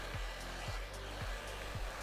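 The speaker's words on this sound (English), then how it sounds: "pulling that dryer through the hair to create some tension" A handheld hair dryer blows steadily while hair is dried with a blowout brush, a continuous close whoosh with a faint rhythmic bump roughly every half second as the dryer is pulled through each section.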